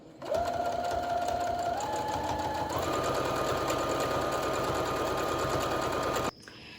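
A sewing machine runs steadily while stitching a narrow hem along the edge of a pillow cover. Its motor whirs in a continuous drone that steps up in speed twice before stopping abruptly near the end.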